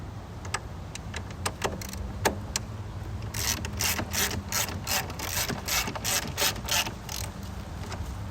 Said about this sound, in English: we have to remove these two 10mm bolts to move this expansion tank out of the way